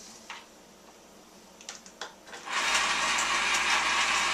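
An electric ice cream maker churning peanut butter ice cream starts up after a few light clicks and handling knocks, then settles into a loud, steady mechanical whir.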